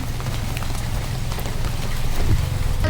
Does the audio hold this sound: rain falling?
yes